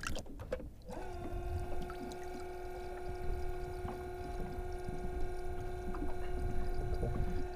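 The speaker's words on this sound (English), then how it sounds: "you could hear how quiet this thing is" An ePropulsion E L electric outboard motor running on a small boat, a faint steady tonal hum with a low whine that holds evenly after a brief clatter at the start, over soft water noise.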